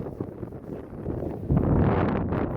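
Wind gusting outdoors on a disc golf course, a low buffeting rumble against the microphone that strengthens and stays loud through the second half.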